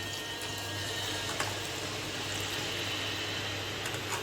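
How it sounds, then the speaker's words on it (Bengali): Water poured into a pan of chicken curry frying over heat: a steady, close hiss and wash of liquid running for several seconds with a low background hum, no pause or splash breaking it. "একটু জল দিলাম।"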